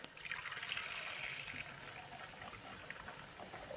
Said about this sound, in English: and so we'll pour it off.